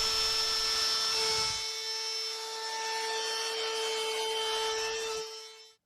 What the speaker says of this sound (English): I grabbed my trim router and put a chamfer around all the edges